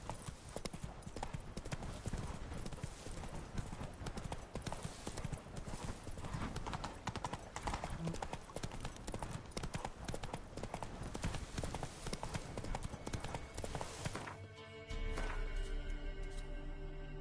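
Horse hooves gallop in the Witcher 3 video game, a rapid, steady clip-clop that runs continuously and close before shifting to a different, smoother sound near the end.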